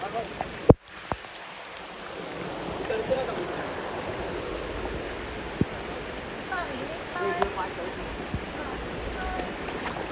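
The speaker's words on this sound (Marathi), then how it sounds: "पाणी आहे धबधब्याला, एकदम सुंदर असं पाणी आलेलं आहे." Water pours down at a waterfall near a temple, a steady broad rush after a sharp knock at the start, with faint scattered sounds over the continuous flow.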